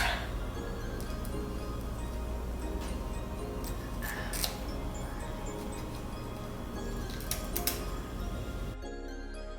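Small scissors snip at the lace around the ears of a wig, faint light clicks spaced irregularly over a steady background hum.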